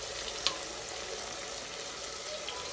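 Tomatoes, onions and rice frying in a pot, a steady bright sizzle that holds evenly throughout with a couple of small pops, close and continuous with no talk.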